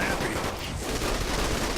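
Rapid gunfire bursts in the video game Saints Row: The Third, a dense continuous clatter of shots filling the whole moment, loud and close.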